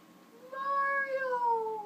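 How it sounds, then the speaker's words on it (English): A stray cat gives a single drawn-out meow, rising then slowly falling, fairly near and clear against a quiet background, with no talking. "that's a stray cat"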